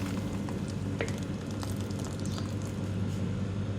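Blended tomato puree hits a hot pan for a chicken karahi, giving a steady low sizzle with faint crackles throughout and no talk.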